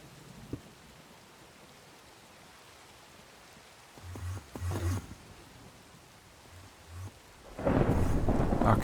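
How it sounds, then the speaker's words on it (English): Minecraft thunderstorm with rain: a soft steady hiss of rainfall, low rumbles of thunder rolling in the middle, then a louder thunder crash swelling near the end, with no talking. "It's a thunderstorm"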